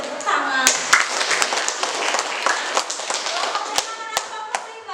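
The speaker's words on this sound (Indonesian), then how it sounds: "Oke, kita beri tepuk tangan." Classroom of students clapping for a group in a PBL lesson, a brisk patter of many hands with sharp individual claps standing out, fairly close and steady for several seconds.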